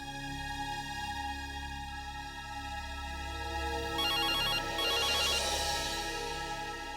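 A mobile phone rings on an outgoing call, a repeating electronic ringtone pattern heard over a steady background hum with no talking.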